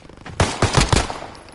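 Close, loud gunfire in Warzone, three or four quick sharp shots in a short burst, each cracking out and decaying fast.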